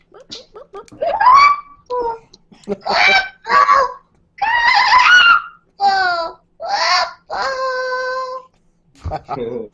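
A voice imitates a honking, goose-like cartoon bird, producing a string of loud, nasal squawks and warbling cries in separate bursts with short pauses between, close to the microphone and with no other talk.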